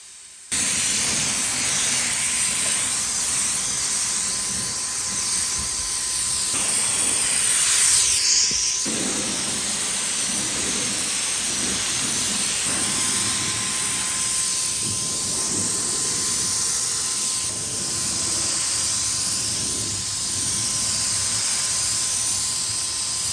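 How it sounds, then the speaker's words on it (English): Steady loud hiss of a paint sprayer coating a vintage buffet, running nearly continuously at close range with brief dips and surges, no voices. "I think it is definitely meant to be sprayed."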